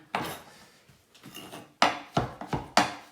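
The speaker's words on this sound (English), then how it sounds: "So let's get this chopped up pretty fine." A knife chops ravioli filling finely on a board, a few sharp close knocks spaced out, then a quicker run of firm chops near the end, with no talking.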